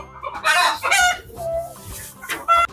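Village chickens under trees cluck in short loud bursts, with a rooster's crowing calls standing out nearby and no talk.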